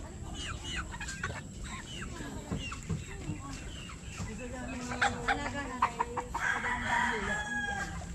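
Several chickens cluck around the listener on a Philippine farm while a rooster crows, with faint talking underneath and rustling outdoor background.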